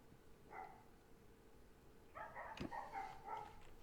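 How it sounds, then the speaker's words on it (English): Dogs barking in the fantasy role-playing video game Pillars of Eternity: a short bark burst early, then a denser run of barks and yips near the end over a low steady game ambience. "Still a lot of barking going on."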